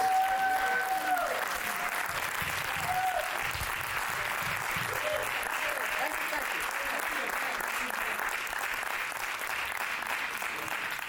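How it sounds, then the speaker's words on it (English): Sustained audience applause fills an event hall at a radio station tribute and family reunion, steady and dense for the whole stretch, with faint voices and a brief tone early on mixed beneath the clapping. "Please give him a big round of applause."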